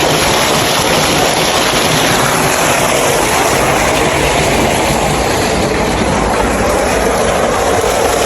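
Water gushes steadily from a solar-powered farm pump, a loud, unbroken rushing roar held close and constant throughout.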